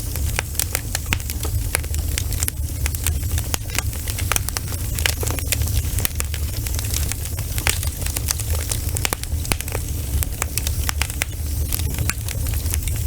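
Firewood burns in a fire oven in the corner of a village yard in Nagaland, with dense, continuous popping and crackling over a low steady roar at a fairly close distance.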